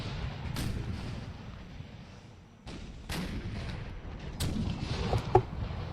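Cannon fire from Union artillery in an American Civil War mod of the strategy game Empire: Total War: several heavy booming shots spaced a second or two apart over a continuous rumbling battlefield din.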